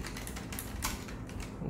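Soft, quick keystrokes on a Keychron K1 low-profile mechanical keyboard with red switches, a fairly quiet steady patter of typing heard alone.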